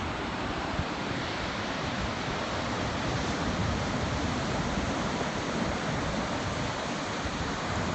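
Steady wash of ocean surf rolling onto a beach, continuous and fairly close, with wind buffeting the microphone throughout.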